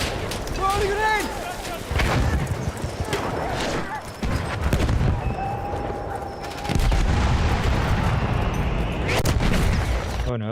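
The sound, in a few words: grenade explosions and gunfire in Battlefield 1 video game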